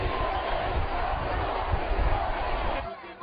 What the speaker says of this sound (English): the crowds grew, chanting anti-government slogans